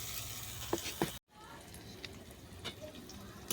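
Potatoes and tangra fish roe frying in spiced oil, a steady close sizzle with a few sharp clacks of a spoon or pan. A brief break cuts the sound, then the hiss resumes more softly.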